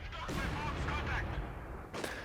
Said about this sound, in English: Another barrage coming in